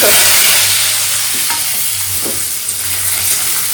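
Fresh cabbage curry with small diced potatoes frying in a pan on a home kitchen stove, a steady loud broadband sizzle with a few soft scrapes from stirring, heard alone without voices.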